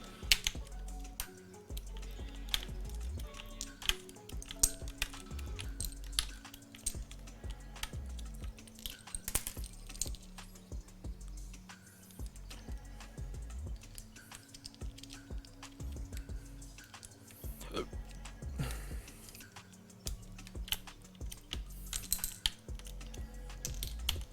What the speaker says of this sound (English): We'll throw the purple keycaps. Just move them directly one by one onto this.